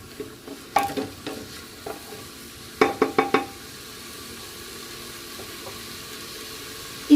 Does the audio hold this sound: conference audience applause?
no